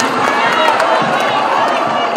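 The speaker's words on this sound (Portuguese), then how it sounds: "Eu quero uma grande salva de palmas para estes dois soldados" A live show crowd cheering and applauding for two performers, a loud, dense roar of voices and claps that stays constant throughout.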